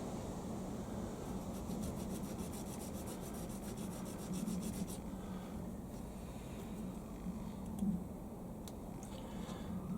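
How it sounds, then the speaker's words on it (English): Steel part for a shop-made ball turning tool being honed on an oilstone to remove a small burr, a steady close rasping rub that continues throughout with no talk. "Oilstone will take care of that."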